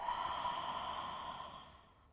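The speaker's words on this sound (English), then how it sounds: "Full breath in. Open mouth, exhale out." A single long open-mouth exhale during a home yoga session, a soft, airy breath that fades out gradually over a couple of seconds, close and quiet with no talking.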